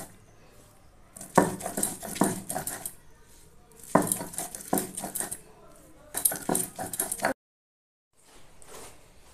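Pumpkin leaves ground by hand on a stone grinding slab, giving three bursts of rough scraping and knocking strokes, close and fairly loud, separated by short pauses, with no talk.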